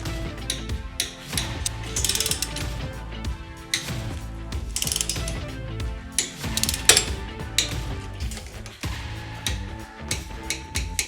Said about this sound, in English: You can go ahead and torque everything down to 10 foot-pounds.